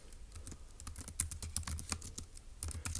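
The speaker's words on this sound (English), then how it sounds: "let's go ahead and type that up in our notes for section E." Notes being typed on a computer keyboard, a steady run of close, crisp keystrokes with short pauses, no voices.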